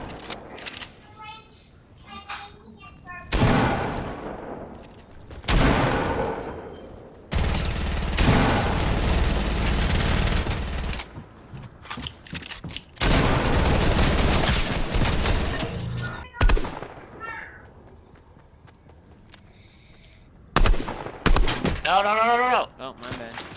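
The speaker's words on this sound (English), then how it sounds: "getting shot at" Video game gunfire crackles in loud, dense bursts of rapid shots separated by quieter gaps, with players talking over the shooting.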